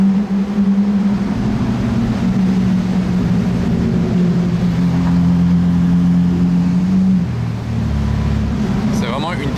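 Pagani Zonda supercar with a loud, steady engine and exhaust drone from inside the cabin, holding a sustained resonant tone for several seconds before the pitch drops near the end.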